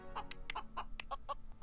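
Chicken clucking in the LEGO The Incredibles video game: a run of about eight short, bright clucks in quick irregular rhythm, close and clear over a faint steady game background hum.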